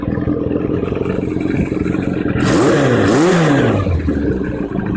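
A Kawasaki KZ650 motorcycle engine runs loud and close after its carbs and tank were cleaned, idling with a rough clatter before revving up twice in quick swells and settling back down.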